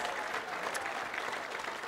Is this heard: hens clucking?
no